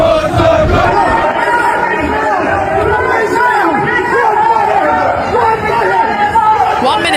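A large hostile crowd outside Downing Street chants and shouts loudly without pause, a dense roaring mass of voices with rising and falling cries.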